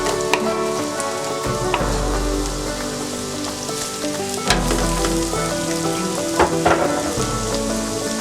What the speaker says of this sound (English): And you can add in your onions and carrots.